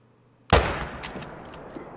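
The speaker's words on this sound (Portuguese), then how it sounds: "Eu vou atirar deitado aqui." A single loud rifle shot fired from a prone position while hunting in theHunter, a sharp close crack at the start followed by a long rolling echo that fades slowly.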